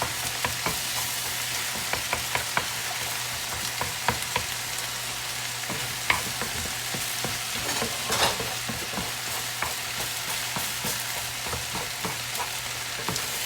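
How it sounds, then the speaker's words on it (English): A couple of eggs sizzle steadily in a pan while a utensil stirs them with frequent sharp clicks and scrapes, close and continuous. "So I'm just gonna go ahead and stir up a couple of eggs."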